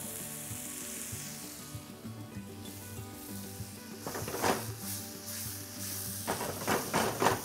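Trevally fish fries in a pan with a lemon butter sauce, giving a steady close sizzle with crackling bursts that swell in the second half, and light rubbing and stirring noises mixed in.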